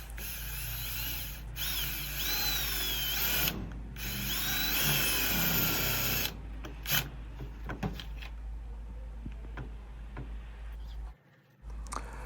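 A power drill bores a hole through wood, whining loudly in bursts with short pauses, then stops, leaving quieter handling clicks and taps.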